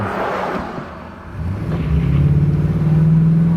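An old pickup truck's engine rumbles low, then revs up and accelerates, the growl climbing in pitch and getting louder toward the end.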